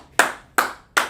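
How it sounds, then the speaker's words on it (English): Three sharp hand claps close by, evenly spaced about a third of a second apart, each with a quick decay, from a class applauding. "Clap it up for both of them"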